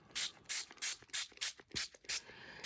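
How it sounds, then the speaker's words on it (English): Spray bottle misting onto crumpled tissue paper for colour transfer, seven or eight quick hissing bursts in a steady rhythm, close and fairly soft, with short quiet gaps between them. "Then you spray again."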